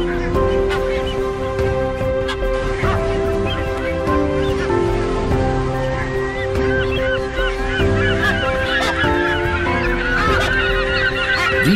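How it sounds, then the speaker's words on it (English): Sooty tern breeding colony on a nesting ground, a dense incessant chorus of many overlapping high-pitched calls, loud and unbroken throughout. "A breeding colony is seldom, if ever, quiet, as the incessant high-pitched calls sound out."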